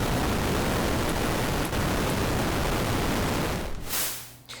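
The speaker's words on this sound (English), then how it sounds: "So there's our gray noise." Steady, dense gray noise from the WaveDuo 1.5 synthesizer hisses loudly and evenly across the full range, alone, then thins and fades near the end.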